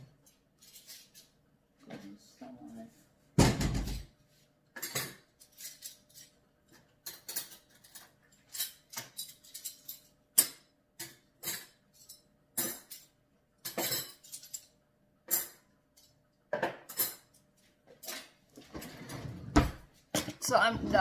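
Dry plates, dishes and cutlery being arranged in a home kitchen: a steady series of close, sharp clinks and clatters of crockery and metal, irregular and separated by brief quiet gaps.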